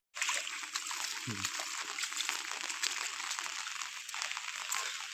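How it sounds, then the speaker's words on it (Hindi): Very heavy rain pours down in a village, a dense, steady hiss of water splashing close by with one brief low thump; no one speaks. "बहुत तेज बारिश हो रहा है।"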